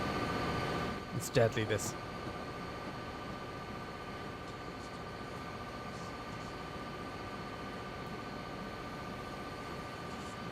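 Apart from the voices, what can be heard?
train running over tracks in video game DayZ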